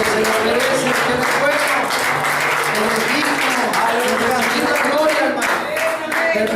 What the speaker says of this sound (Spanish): Denle las palmas al Señor, hermano, que se lo merece